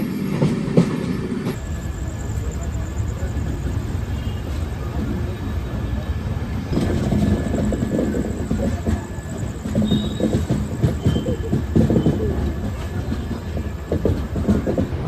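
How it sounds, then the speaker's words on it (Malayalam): The Kochuveli–Indore superfast express rushes past near Kozhikode with a steady, loud roar of rolling wheels and rail clatter lasting throughout, swelling slightly in the second half as carriages go by. "കൊച്ചുവേളിയിൽ നിന്ന് ഇൻഡോർ പോകുന്ന സൂപ്പർ ഫാസ്റ്റ് എക്സ്പ്രസ് ആണ് ഈ പോകുന്നത് കേട്ടോ"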